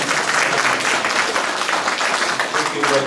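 An audience at a federal all-candidates debate claps in a warm, sustained round of applause, many hands pattering densely and evenly for a few seconds, fairly close, with talk faintly beneath.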